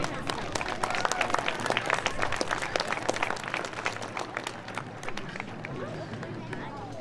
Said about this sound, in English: Please give a round of applause for Landon Hasbrook.